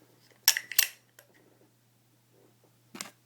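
The bolt of an Autococker paintball gun is slid back into place, producing two sharp metallic clicks close together, a small tick, and then one more click after a short pause, all close and quiet with no talking.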